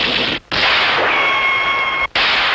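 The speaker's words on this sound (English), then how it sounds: "Each gun makes lots of battle sounds." Marx Sound of Power toy military rifle making loud, close, hissing electronic battle noise in long bursts, broken by two short gaps, with a high ricochet-like whine in the middle and no talk.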